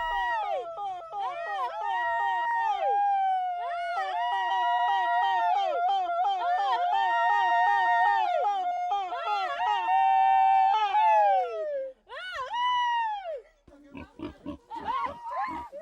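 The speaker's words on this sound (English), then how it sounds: "village people who communicate by using an extraordinary repetitive" Villagers in the Papua New Guinea Highlands give an extraordinary repetitive cry: long, sustained wavering calls rising and falling in pitch, carried loud and clear, ending with shorter broken yelps.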